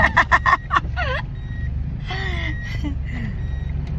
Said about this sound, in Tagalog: Vintage, magtingog-tingog ni siya i-brake.